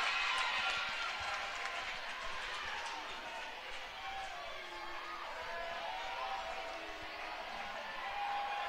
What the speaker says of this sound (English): Glenwood crowd gets loud.